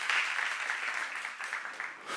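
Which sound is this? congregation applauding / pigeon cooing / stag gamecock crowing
congregation applauding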